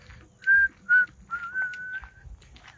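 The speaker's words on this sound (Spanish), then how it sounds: "empecé a escuchar silbidos como un..." Human whistling heard in a wooded hillside near a lagoon, two short clear whistles followed by a longer drawn-out one, fairly close and alone over faint background rustle.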